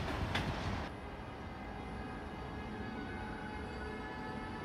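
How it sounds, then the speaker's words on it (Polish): A passenger train at Wrocław Główny station, heard as a steady broadband rumble of rolling stock with a brief brighter clatter near the start, sustained and fairly loud, no talk. "to jest skład z Rawicza do Wrocławia Głównego i ten skład wchodzi na pociąg do Rawicza"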